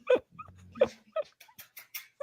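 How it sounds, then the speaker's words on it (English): A large, broad-headed dog lets out a few short, close whimpering yelps in quick bursts, with brief silences between them and no talking. "That's a big dog."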